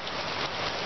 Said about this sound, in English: But it's, like, pouring rain.